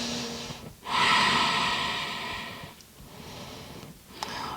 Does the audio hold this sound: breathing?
yes